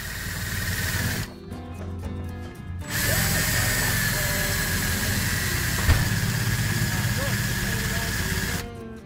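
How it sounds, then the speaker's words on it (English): A 1/4 inch power drill bores a hole in copper tubing for a homemade flute, its motor whining in a steady, loud drone for most of the stretch, with one brief pause near the start. "Drill your hole."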